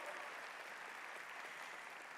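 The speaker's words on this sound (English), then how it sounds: "Give them a round of applause" Steady crowd applause at an awards banquet, greeting the conference co-chairs; dense, even clapping from a sizeable room that holds at a constant moderate level throughout.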